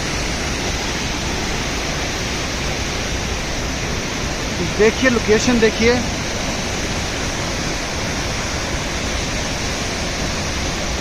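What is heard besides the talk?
waterfall flowing at Sajla waterfall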